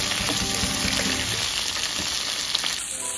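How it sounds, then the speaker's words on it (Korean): Salted zucchini stir-fries in two spoonfuls of cooking oil in a hot pan for a spicy side dish, a steady close sizzle with soft scraping stirs throughout and no talking. "달군 팬에 식용유 2큰술을 넣고 절인 애호박을 먼저 넣어 볶아주세요."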